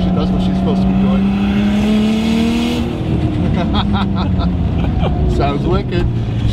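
A Nissan Skyline R32 with a turbo screamer pipe revs hard, its engine note climbing loudly and then dropping as the open turbo vent hisses and flutters in sharp bursts close by.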